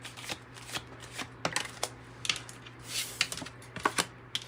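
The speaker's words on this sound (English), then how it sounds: "Let's pull all the cards first." Tarot cards are shuffled and pulled from the deck: quiet, close riffling bursts and soft flicking snaps in an irregular rhythm, with faint low hum underneath and no talking.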